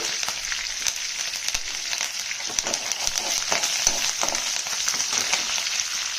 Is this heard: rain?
no